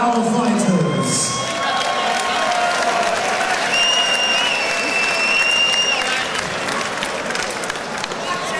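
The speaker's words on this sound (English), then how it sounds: "please give a round of applause for our fighters" A fight crowd at a UKFC event applauds the fighters after the official decision, with sustained loud clapping and scattered cheers filling the hall, while an announcer's voice and some whistles sound over the applause.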